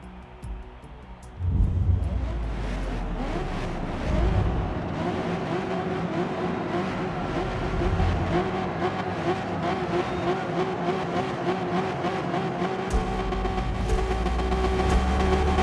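A Nissan Z NISMO with a nine-gear gearbox accelerating hard in Forza Motorsport, the engine note rising steadily through the gears as a loud, continuous drone with faint shift changes, heard alone without talk.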